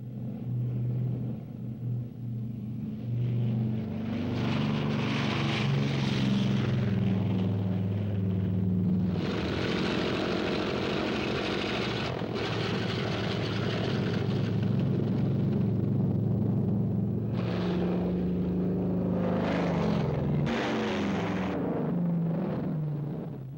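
World War II propeller bomber planes fly in a heavy formation, producing a deep, continuous rumbling drone that swells and fades in waves, loud and steady with no voices.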